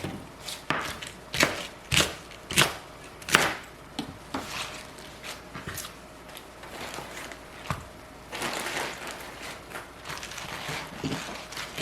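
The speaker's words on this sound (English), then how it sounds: "I'm going to quickly chop 2 shallots to add" Knife chopping two shallots on a board, with quick, sharp, evenly spaced taps close by at first, then a softer, more scattered stretch of cutting and faint scraping.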